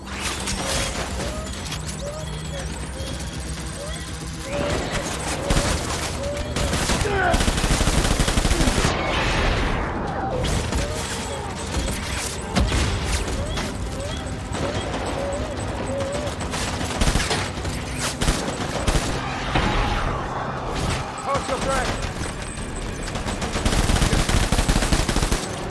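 Sustained automatic assault rifle fire rattles in rapid bursts through a Death Stranding gameplay battle, loud and dense, with mechanical clanks and scattered impacts between volleys over continuous background score.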